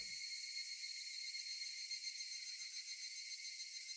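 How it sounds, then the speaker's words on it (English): Cicadas give a high, steady, droning chirr with faint regular pulsing, continuous and even throughout, heard alone without any voices. "Only the cry of the cicadas remained, annoyingly loud."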